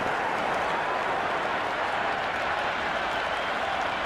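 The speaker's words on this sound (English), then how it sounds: "It's evident and ever so audible that the crowd is at near bursting point at today's play." Dense crowd cheering and applause from a cricket video game, Cricket 26, in a Pakistan versus England match: a steady, loud, continuous roar of clapping and cheers that holds without a break.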